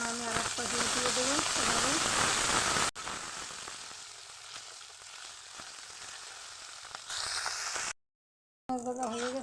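Koi fish turned onto the other side in a pan of oil give a close, crackling sizzle that dips to a softer, continuous fry, cut briefly by a short silence near the end, with music in the background.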